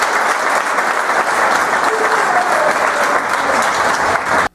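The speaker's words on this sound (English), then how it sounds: "we give Buzz a big round of applause" A crowd gives a long, steady round of applause for Buzz, loud and even from start to finish before it stops abruptly.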